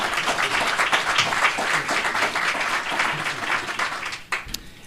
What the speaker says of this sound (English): Let's give another round of applause for all three of the panelists.